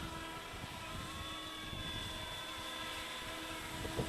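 An Eachine E200 flybar RC park-fly helicopter flying outdoors in light wind, its rotor and motor giving a steady faint whine and drone with no talk.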